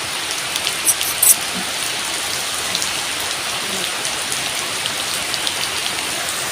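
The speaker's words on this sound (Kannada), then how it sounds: "ಮಳೆ ನೋಡಿದ್ದು ಎಂತ ಮಳೆ ಬರ್ತದೆ ಇಷ್ಟು" Dense, steady downpour of heavy rain drumming on surfaces, close and loud, with a couple of brief sharper patters and no voices.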